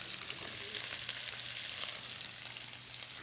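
Tofu fries in a pan with a dense, even sizzle that holds steady at moderate loudness throughout, with no talking over it.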